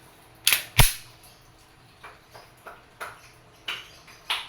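WE airsoft Glock 18C gas pistol firing single shots: two sharp close pops early, then a steady series of five lighter snaps spaced roughly half a second apart, with no talking.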